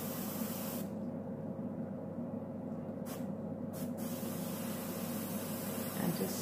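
An airbrush sprays red paint in a steady, close hiss that runs almost the whole time, with a few brief changes in tone as the spray is adjusted.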